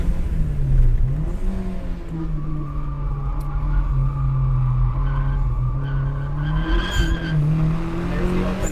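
A budget turbocharged Mazda Miata on a race track spins its tire while accelerating, a steady engine drone rising in pitch with squealing tire noise on top, with people talking underneath.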